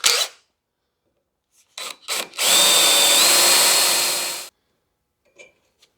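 A power drill whirs in short bursts, then runs steadily for about two seconds as the bit bores through metal bracket stock for driving lights, close and loud, followed by quiet.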